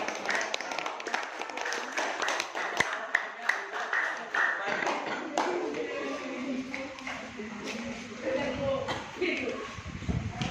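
Students in a classroom clap during a religious studies lesson. The claps come in uneven bursts under a voice that keeps talking, and they fade as the speech takes over.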